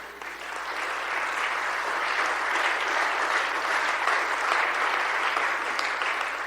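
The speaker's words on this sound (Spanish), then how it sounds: "Vívelo y dale un aplauso al Señor" Church congregation clapping together through a sermon, a steady, dense wash of applause that holds at an even level from start to finish with no voices over it.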